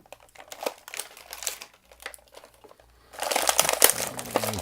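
Plastic packaging crinkles and crackles as a Batman action figure is pulled free, soft scattered rustles at first, then a denser, louder burst of crumpling toward the end.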